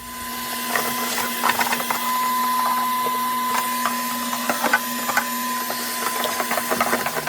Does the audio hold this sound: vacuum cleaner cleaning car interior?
yes